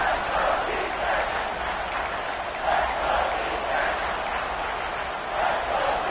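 A college football stadium crowd roars on a big third down, a broad sustained wash of cheering that swells in waves and carries a steady noise floor.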